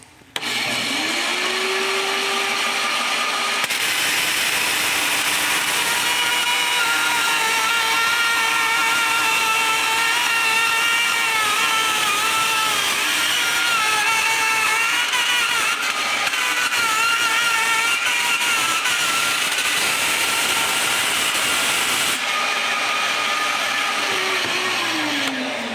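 A power saw blade cuts through copper sheet for a pendulum clock, a loud sustained high whine with shifting pitch through the middle, as the blade spins up, bites into the metal and winds down.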